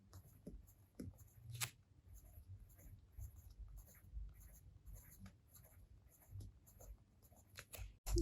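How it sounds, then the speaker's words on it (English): Faint, sparse scratching of a colored pencil tracing tiny circles on paper, close and quiet in short irregular bursts with long soft pauses. "So we draw really small tiny circles by each other's."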